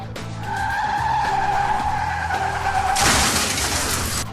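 A car brakes hard, its tires squealing in a sustained, loud skid for about three seconds before a sudden harsh, noisy burst like an impact takes over.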